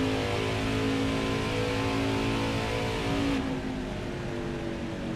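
Race car engine in 4th gear at Darlington in a racing video game, a loud sustained steady drone with harmonic whine, dropping slightly in level partway through.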